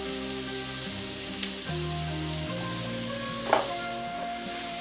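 Ostrich steak in BBQ marinade sizzles in a pan indoors, a steady close frying hiss with a low hum underneath and one sharp pop partway through, no talk.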